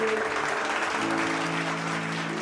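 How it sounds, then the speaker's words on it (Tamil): A church congregation claps steadily through a Tamil Sunday service, the dense clapping running continuously over a sustained organ or keyboard tone. "கைத்தட்டுங்க உதவுறது."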